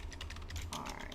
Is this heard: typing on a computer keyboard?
yes